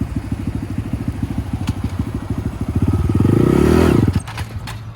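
Honda Grom motorcycle engine revving up from idle, a close, chuggy pulsing exhaust that climbs in pitch and loudness before dropping off near the end, with a few faint clicks and clatters.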